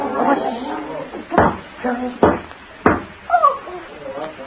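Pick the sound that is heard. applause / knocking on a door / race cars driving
knocking on a door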